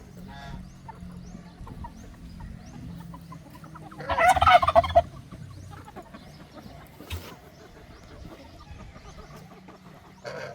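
A farm turkey gobbles in one loud, rattling burst partway through, surrounded by faint rural background noise and a few scattered clucks.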